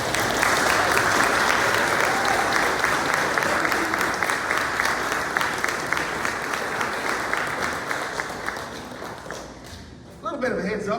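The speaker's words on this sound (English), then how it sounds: "So give a round of applause" An audience at a school event claps steadily for about ten seconds in a dense, sustained wash of applause that tapers slightly before a brief burst of talking at the end.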